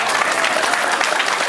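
Guests at the wedding of Bahati break into brisk, dense applause, a steady crowd of hands clapping close and loud throughout the moment.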